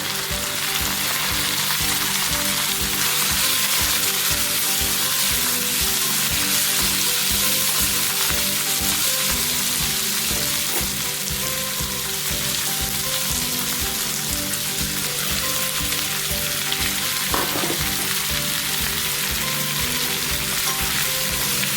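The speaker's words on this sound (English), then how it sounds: "now I'm going to add the onion and the pieces of garlic." Onion and garlic sizzle and fry steadily in a cast iron pan, following curry leaves and chili, with a loud, continuous crackle and faint stirring scrapes throughout.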